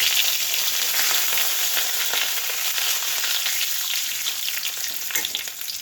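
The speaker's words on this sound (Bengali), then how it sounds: "একটু জিরে ফোড়ন দিচ্ছি, আর তিনটে তেজপাতা দিচ্ছি, আর কয়েকটা কাঁচা লঙ্কা।" Cumin seeds, bay leaves and green chilies sizzle steadily in hot oil, a loud, continuous close-up crackle with no speech.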